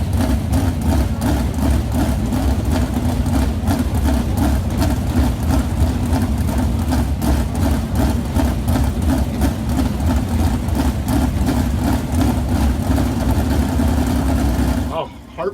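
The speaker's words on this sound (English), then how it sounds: "heat in the motors, Davy Brown tuning the engine" A race car engine, likely from winged sprint car racing, idles steadily while being tuned, giving a loud, continuous throbbing rumble that holds nearly unchanged for about fifteen seconds before cutting off abruptly.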